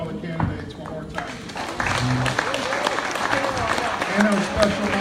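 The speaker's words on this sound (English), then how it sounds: "Let's give one more round of applause to all the candidates one more time." At a county Democratic candidate forum, an audience breaks into applause after a voice speaks. The clapping swells into a steady, moderately loud round that carries to the end.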